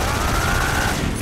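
Dense automatic gunfire from the video game Metal Gear Solid 3: Snake Eater, aimed at vehicle tires, comes as a loud, continuous wash of rapid shots with no pauses.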